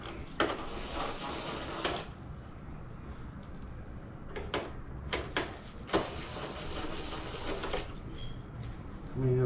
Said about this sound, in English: take all the screws off